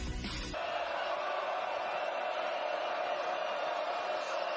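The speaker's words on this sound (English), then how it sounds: "You hear the crowd getting a little louder here" Crowd noise in a basketball arena at a college game, a steady, fairly quiet roar of many voices that stays level, with a brief louder burst at the start.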